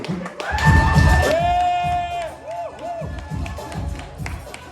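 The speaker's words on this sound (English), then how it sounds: "Start clapping your hands right now" An open mic night crowd cheers and whoops loudly with scattered clapping, rising and then easing as a voice stands out above the noise.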